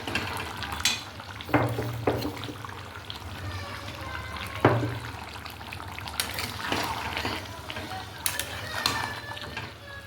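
A spoon stirs hand-pounded ground cardamom, clove and cinnamon into a village-style chicken and potato curry in a pot, giving soft scraping strokes at irregular intervals over a faint, low simmering sizzle.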